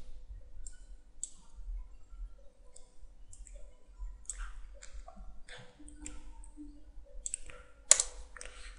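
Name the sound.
typing on a computer keyboard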